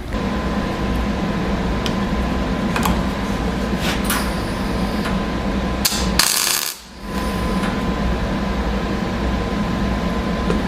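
A brief, harsh crackling burst as a corner piece is tack welded on a Jeep TJ, rising out of a constant shop hum with scattered light clanks around it.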